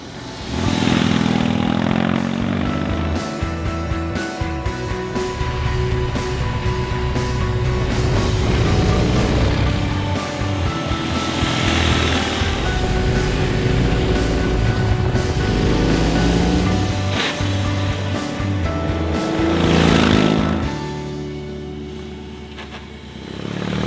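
A BMW R 18 1800cc cruiser motorcycle is ridden, its engine droning loudly and steadily with rising and falling revs and wind rush, a couple of stronger accelerations standing out.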